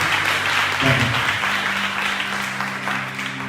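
A church congregation applauds at length, a continuous loud wash of many hands clapping with a low sustained tone underneath.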